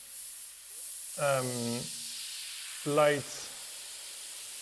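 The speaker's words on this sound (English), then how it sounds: "An airbrush will give you a very gentle mist" An airbrush spraying a gentle mist of paint during mural work, producing a steady airy hiss throughout, close and continuous, with a person briefly talking over it twice.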